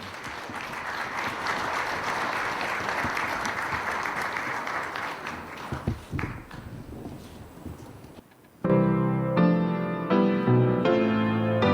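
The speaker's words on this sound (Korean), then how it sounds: "박수로 우리 환영하십시다" Church audience at a prison anniversary thanksgiving service applauding to welcome the soloists, sustained clapping that fades and stops, followed by a loud piano-accompanied vocal performance starting abruptly.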